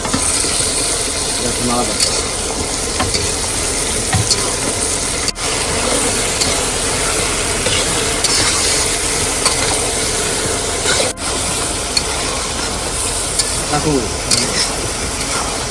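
Fish being stirred and sautéed in spices in a pan, a loud, dense sizzle with constant scraping and clattering of the spatula, close up, with faint voices in the background.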